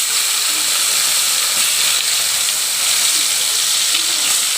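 Eggs rubbed with turmeric fry in hot oil with a steady, close, broadband sizzle and hiss that holds level throughout, with no speech over it.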